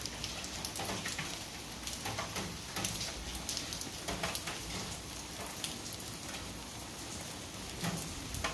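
Rain falling outside near a nectar feeder, a steady dense patter of drops with scattered sharper ticks, continuous and fairly close, with no voices.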